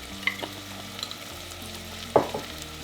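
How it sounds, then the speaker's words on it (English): Onions fry in avocado oil with a soft, steady sizzle, broken by a few stirring scrapes and clinks, one louder knock near the end; close and fairly quiet, with no voices. "And this is onions with avocado oil."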